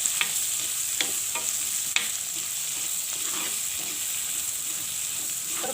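Onions and green chillies sauté in a pan for Sri Lankan-style rava upma, a steady close sizzle with occasional sharp spoon taps and scrapes on the metal pan.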